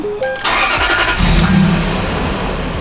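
A freshly tuned Lexus GX470 engine cranking and catching after short electronic chimes, rising into a loud rev and then easing into a steady, rumbling idle close by.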